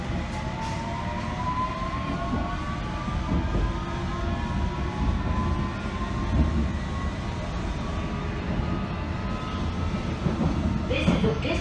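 A London Underground District Line train runs toward Dagenham East via Barking, making a continuous rumbling carriage roar with faint high wheel squeal throughout.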